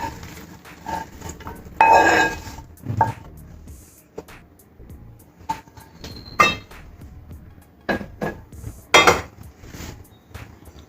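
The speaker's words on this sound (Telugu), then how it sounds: "ఇప్పుడు ఈ మామిడికాయ పేస్ట్ని ఇందులో కలిపేసుకుందాం మనం" Metal utensil scraping and knocking against a cooking pan while mango paste is mixed into cooked rava for mango rava pulihora, intermittent clinks and clatters with quiet gaps between.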